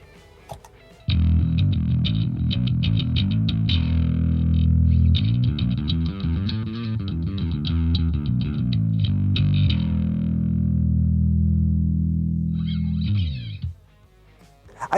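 A bass guitar plays through an Aguilar Agro distortion pedal, producing a thick, gritty, sustained tone across several phrases before it cuts off near the end.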